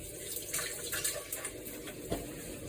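Water from a running tap splashes over a glass jam jar being washed in a sink, a faint steady stream with small clinks and splashes and no talking.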